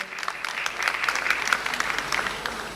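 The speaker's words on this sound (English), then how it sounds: "give them a round of applause" Audience applause at a live Milestones of Freedom campaign event officiated by President Cyril Ramaphosa; steady, moderately loud crowd clapping with scattered sharper claps, continuous throughout.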